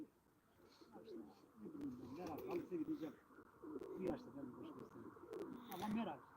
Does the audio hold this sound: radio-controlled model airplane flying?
no